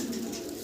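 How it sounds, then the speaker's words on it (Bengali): A female pigeon on a Bengali pigeon farm gives a low, steady coo that holds for under a second, close and clear with no talk over it. "একটু মাদিটারও সামনে এনে দেখাই আপনাদেরকে"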